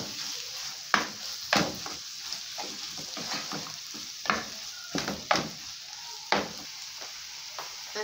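Apple filling for sweet crispy msemen pastries is stirred and fries in a pan, giving a constant sizzle broken by repeated sharp scraping strokes of the spoon at an irregular rhythm.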